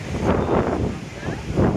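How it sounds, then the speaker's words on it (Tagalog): Gusty wind buffets the microphone in a continuous roar with uneven swells, and faint voices may blend into the noise. "At saka mahangin dito."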